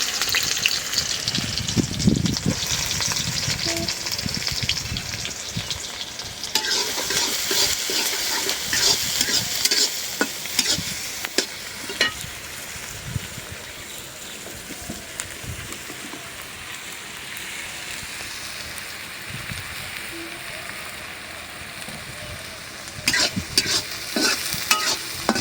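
Onions fry in hot oil in a pan, a steady loud sizzle running throughout while a spatula stirs and scrapes at intervals, with clattering bursts toward the end.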